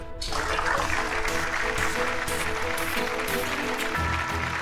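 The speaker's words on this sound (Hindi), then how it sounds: "जोरदार तालियां हो जाए।" Loud, continuous applause rises abruptly after a short silence and holds steady, dense clapping blended with music-like tonal sound.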